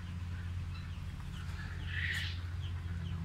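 Chickens and turkeys clucking in a farmyard pen, a soft burst of clucks around the middle over a steady low background rumble.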